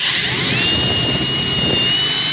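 A power drill with a blunt bit grinds steadily into a plug, a loud continuous high whine with a sliding pitch that holds for the whole stretch, close by and with no talk over it.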